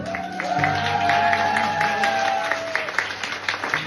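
A crowd of Georgians in Germany claps together, a dense burst of applause that swells and then thins into scattered claps, with a voice briefly heard over it.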